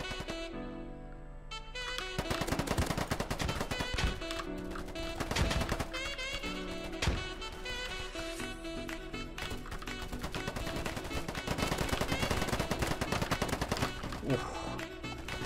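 Rapid automatic AK-47 fire in the online shooter game Polygon comes in long, loud, dense bursts with brief pauses, close and dominant throughout.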